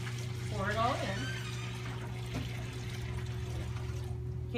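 Brine liquid is poured over a turkey, making a soft, steady trickle and splash under nearby speech, with a constant low hum in the background.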